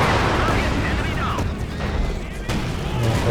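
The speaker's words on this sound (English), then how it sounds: "There's another creeping barrage" Creeping barrage artillery fire in Company of Heroes 2 rumbles in dense, overlapping booms and distant blasts, with a dull thud or two standing out amid the continuous battle noise.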